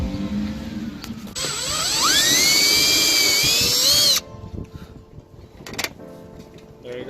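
A power drill whines loudly for a few seconds drilling holes in a 2016-2018 Civic Si spoiler, pitch rising as it spins up and bites, then cuts off, leaving faint clatter and handling noises.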